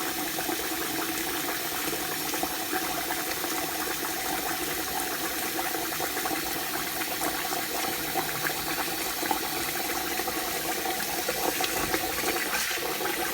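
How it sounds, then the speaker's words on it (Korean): Tap water runs from a kitchen sink faucet into a pressure cooker holding rice, a steady rushing stream that continues close and fairly loud through the whole stretch. "싱크대에서 바로 물을 부어줍니다."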